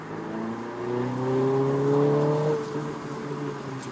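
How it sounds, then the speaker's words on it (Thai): A Mini John Cooper Works convertible engine revs up, holds a rising exhaust note, then eases off, with a faint crackle of exhaust pops as the throttle is released. "มันจะมีเสียงปุ้งปังปุ้งปังปุ้งปังตอนที่ผมปล่อยคันเร่งแล้วก็ตอนที่เหยียบคันเร่ง"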